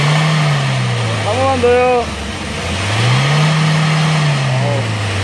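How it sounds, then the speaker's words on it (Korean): A Hyundai Porter 2 truck, which had failed an emissions test on smoke, has its engine revved twice with the accelerator pressed. Each rise and fall in pitch is loud and close, and a voice speaks briefly between the revs. "자, 포토 차량 장착 전에 한번 밟아 보겠습니다."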